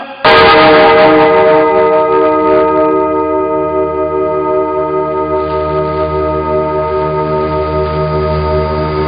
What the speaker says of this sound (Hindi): जैसे मंदिर हमने घंटा बजाया